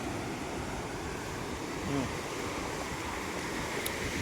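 Sea waves wash continuously onto Bheemili beach near Visakhapatnam, a broad, steady surf with some wind noise and no distinct breaks.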